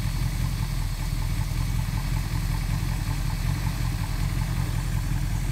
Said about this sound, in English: Man, listen to how it sounds. The 273 is a very underrated engine.